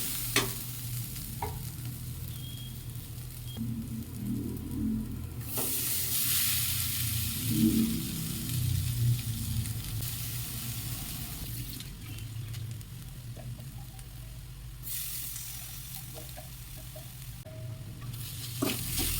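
Soaked poha tipped into a hot oil tempering sizzles and crackles loudly throughout, with the scrape of stirring in the pan continuing close up and no talk.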